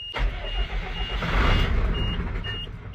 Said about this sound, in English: You can crank on it all day, but it won't start until I give it a little throttle.